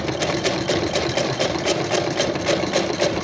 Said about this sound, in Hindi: अब हम यहाँ पर सिलाई लगाएंगे।